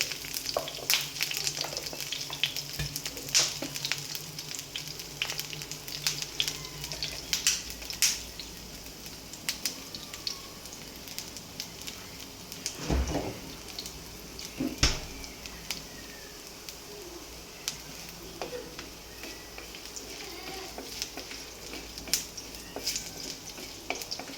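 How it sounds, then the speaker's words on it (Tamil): Ginger fries in oil until golden brown for a chicken stew fry, a soft continuous sizzle with scattered crackles and occasional stirring scrapes, fairly quiet throughout. "இஞ்சி வந்து கோல்டன் ப்ரௌன் ஆகணும்."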